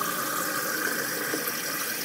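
Water running from a tap into a cup, a steady close hiss of flowing liquid lasting a couple of seconds with no talk.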